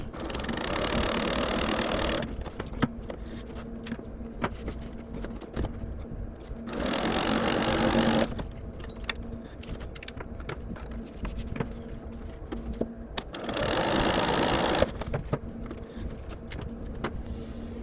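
A serger sewing machine stitches a quilt block in three loud, fast, buzzing bursts of a few seconds each, separated by quieter pauses with small handling clicks, close up.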